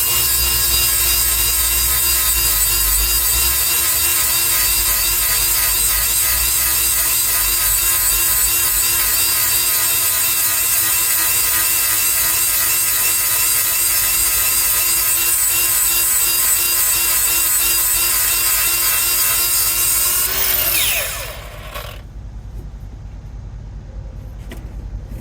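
Teeth of a Bandit Beast 4680 grinder are sharpened on a mill, a loud, continuous grinding whine with a steady rhythmic texture that runs for about twenty seconds and then winds down to a quieter hum.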